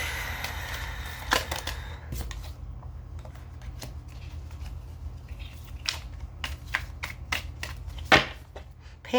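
Tarot cards are shuffled repeatedly with crisp riffling snaps and soft slides, close and fairly quiet, with a low background hum.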